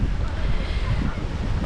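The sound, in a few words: wind at the beach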